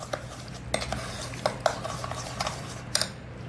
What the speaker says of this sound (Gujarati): સુગરને બરોબર ઓગાળી લેવાની.